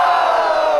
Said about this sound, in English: can I get the entire crowd to say, whoa!